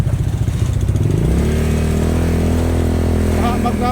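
A motorcycle engine runs loudly and steadily, its pitch climbing partway through as it revs and strains, with voices talking faintly underneath.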